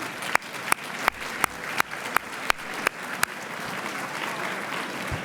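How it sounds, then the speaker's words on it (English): Audience applause at an annual awards dinner honoring staff, interns and volunteers: a full room clapping steadily and fairly close, with several sharp louder claps standing out at the start before settling into an even wash. "I'd like to ask everyone to give them a big round of applause for the tireless work they do."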